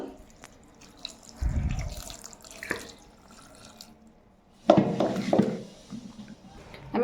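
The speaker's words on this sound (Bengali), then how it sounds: "আর এখন দেব পরিমাণ মতো জল" Water pours into a cooking pot of sambar-spiced food in a home kitchen, coming in two short splashing bursts separated by quieter clatter.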